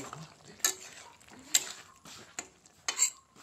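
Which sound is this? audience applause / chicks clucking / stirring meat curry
stirring meat curry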